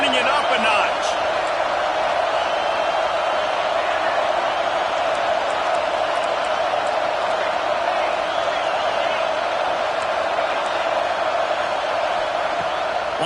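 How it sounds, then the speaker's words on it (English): A college football stadium crowd roars at a UCLA game, a steady dense wall of cheering and noise sustained throughout, loud and continuous under no clear foreground voice. "this crowd is turning it up a notch"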